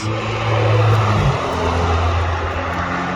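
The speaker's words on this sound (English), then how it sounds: "And there we have AMG GT Black Series." A Mercedes-AMG GT Black Series rushes past on the Nürburgring, its loud engine note dropping in pitch as it goes by, then fading into a steady roar from the distance.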